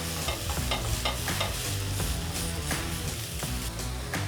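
Rinsed capers are pressed and crushed in a hot skillet, a quick rhythmic series of close taps and scrapes over a continuous sizzle.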